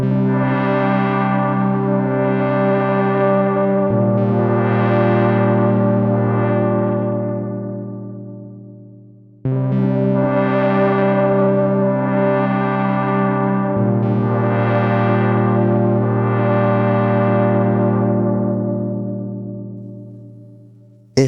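A Hologram Chroma Console effects pedal, Matte Black Edition, plays two long sustained, distorted chords while an automated filter sweeps the tone up and down, each chord ringing out and fading before the next.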